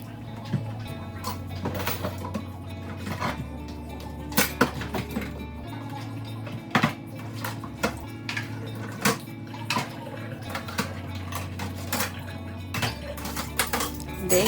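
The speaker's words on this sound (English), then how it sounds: "Days like today, it would be nice to have a dishwasher because I'm going to wash dishes twice in this video." Dishes washed by hand in a home kitchen: repeated clinks and clatters of pots, plates and cutlery, close and moderately loud, over a steady low hum with soft background music.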